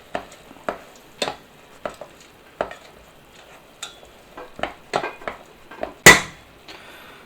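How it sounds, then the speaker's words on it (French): Ladle stirring parmesan risotto in a pot with stock just added, sharp distinct scrapes and knocks against the pot at irregular intervals, each one brief and clear, with one louder clank near the end. "Et on vient remuer"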